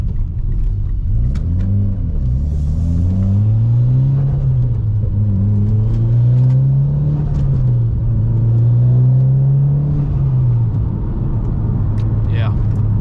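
Mitsubishi Evo X engine rumbling while driving and downshifting after a short shifter and bushings install, a loud in-car drone with the pitch rising and falling through the gear changes and someone talking over it.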